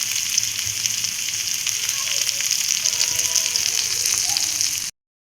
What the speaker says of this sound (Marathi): तवा पातळ असल्यामुळे ते तडतडते जरा तेल